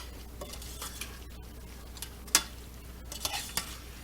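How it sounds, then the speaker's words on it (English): A spoon stirs chili in a pot in a home kitchen, giving soft scraping and a few sharp clinks against the metal over a low steady background hum, with no voices. "So we'll just add that right in there like that. We'll just stir that up."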